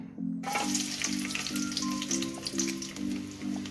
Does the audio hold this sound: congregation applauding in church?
no